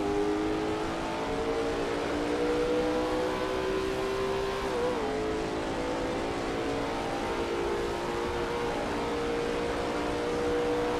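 A Lola T70 MkII Spyder race car in a racing video game at Riverside drones loudly and continuously through a turn, its engine tone holding steady, dipping briefly, then climbing again, with no talk.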